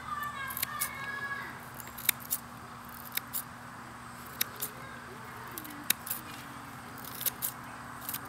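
Scissors trim the root tips of freshly harvested greens for a restaurant order, giving faint, sparse snips and clicks over quiet room noise.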